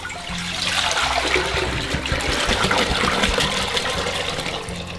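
Clean water gushes and splashes steadily into a jug for several seconds, a close, continuous pouring sound with a hollow, filling tone.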